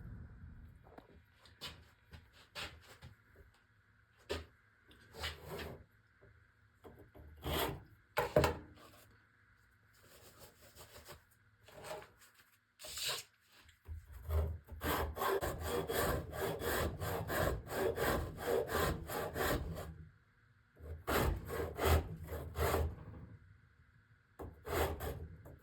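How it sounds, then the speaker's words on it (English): Hand sanding of a solid-body electric guitar's wooden body, with bursts of rough back-and-forth rasping strokes, sometimes sparse and sometimes long and continuous, close up and with no talk. "and then I'll hand sand it round"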